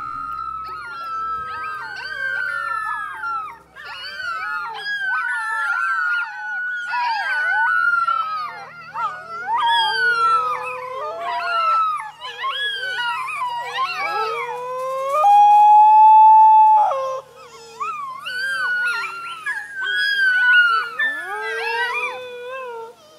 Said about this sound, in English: In the following footage of puppies howling, note that the mother joined in.